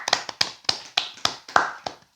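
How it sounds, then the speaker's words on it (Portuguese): A small group gives a short round of hand claps to greet a podcast guest, eight sharp distinct claps in a loose, uneven rhythm, close by and fairly quiet, with no talking over them. "Palmas pro Júnior."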